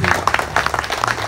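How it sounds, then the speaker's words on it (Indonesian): A brief, loud burst of audience applause at an Indonesian political discussion on small businesses. It is a quick patter of claps with a voice mixed in. "Nah itu programnya Pak Maulana, tepuk tangan dulu dong."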